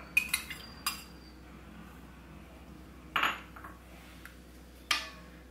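Chilled sabja seeds are stirred into a drink with a spoon, giving a few sharp clinks against the glass. The scattered taps are quiet, close and separated by pauses, with no speech.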